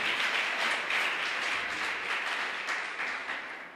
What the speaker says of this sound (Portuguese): Então dá uma salva de palmas a Jesus aí.